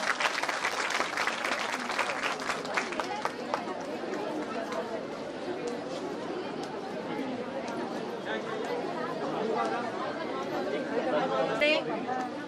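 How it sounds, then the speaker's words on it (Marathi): Audience applause at a certificate distribution ceremony for women beneficiaries, a crowd clapping loudly and steadily at first, then mixing with chatter and movement as the applause continues more unevenly. "टाळ्यांचा गळा गजर होऊ द्या"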